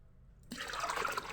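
Jeevamrutham liquid fertilizer, mixed with water in a bucket, is poured from a mug onto plants, a sudden splashing gush that starts after a brief silence and continues as a steady trickle and spatter, quiet and close.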